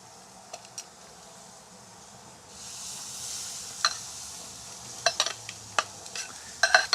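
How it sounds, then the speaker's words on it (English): Marinated meat laid skin side down on an outdoor grill, a soft steady sizzle that swells partway through, dotted with sharp crackles and pops, close and fairly quiet, no voices. "put it on the grill, skin side down"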